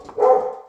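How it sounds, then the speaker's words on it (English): A single loud, close dog bark sounds on its own against quiet indoor background noise, with no speech. "These dogs are driving me nuts."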